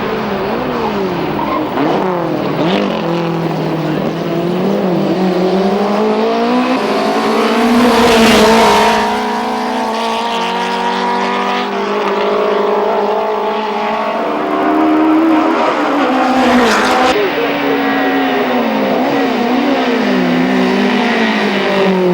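A Lotus ATS race car at the 1989 Lanvin Golden Age Grand Prix races at Italy: loud engine note rising and falling through gear changes, with other cars roaring past in continuous close racing.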